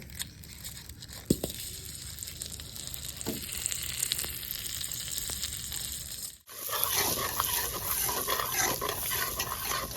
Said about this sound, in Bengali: দিয়ে দেবো বাটার